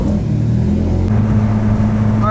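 A Mitsubishi Evo X fitted with a new turbo cruises on the road, its engine giving a steady, close drone with a low rumble throughout.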